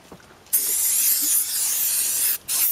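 Brake cleaner sprays onto a car part in a loud, steady hiss lasting about two seconds, breaking off for a moment and then resuming close by.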